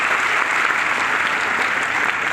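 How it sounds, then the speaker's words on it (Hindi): Loud, dense audience applause fills a hall at a network marketing business seminar, a steady wash of clapping from a large crowd throughout, with no speech. "एक बार जोरदार ताली अपने बजाइए"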